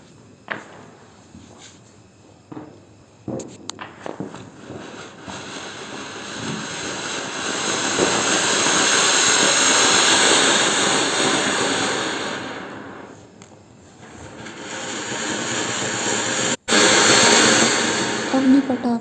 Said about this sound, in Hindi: यहाँ पे अवनी के पापा जला रहे हैं अनार।